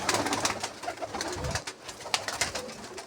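Pigeons coo steadily and close by, a continuous run of low, throaty, rolling calls filling the short stretch.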